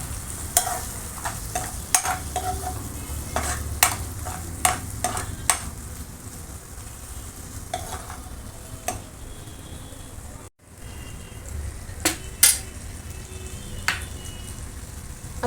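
Capsicum sizzling in hot oil for masala macaroni pasta, stirred with a spoon; a constant sizzle broken by many sharp clacks and scrapes, with one brief dropout partway through.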